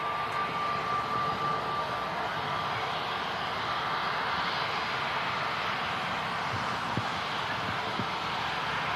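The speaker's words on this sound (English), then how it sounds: "that bizjet just took off like a rocket. Literally directly above us" A business jet climbing out from an airport runway directly overhead, heard as a steady, fairly faint engine roar with a thin whine, no voices over it.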